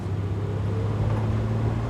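A Plymouth Barracuda with a 383 big block engine pulls at full throttle, a steady deep droning roar with a low rumbling tone, heard from inside the car with no talking.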